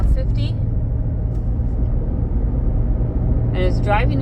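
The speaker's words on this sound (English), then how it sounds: "There might be a wheel bearing noise. It's either a tire noise or a wheel bearing noise." Cabin rumble of a 2004 Jeep Liberty cruising near 50 mph, steady low road and tire drone that may hint at a wheel bearing fault, running continuously under someone talking at the start and end.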